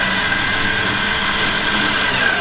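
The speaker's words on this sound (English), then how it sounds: "And we're just gonna start winching it in." A winch reeling in synthetic winch line, a steady close mechanical whir with a constant motor tone running unbroken throughout, no talk over it.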